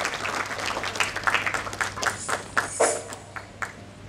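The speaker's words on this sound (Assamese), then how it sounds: "হাত চাপৰি এটা হ'ব লাগে আৰু এই হাত চাপৰি চলি থাকিব লাগে" Applause from a theatre audience for the crew of the stage play "Padmanabh", a moderate patter of many hands that thins into scattered, distinct claps over a steady low hum.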